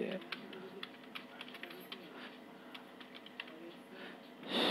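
Fingers typing on a computer keyboard in Code::Blocks on a PC, a steady run of close, light key clicks with a person speaking faintly over them.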